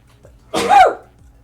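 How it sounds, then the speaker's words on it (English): A single sharp sneeze, close and loud, preceded by a faint breath. "I'm gonna sneeze."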